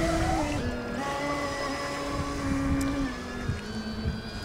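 A small remote-controlled bait boat motor, a Carplounge RT4 on autopilot, whirs steadily with a gliding pitch that shifts and steps down, a faint buzzing drone over low background rumble.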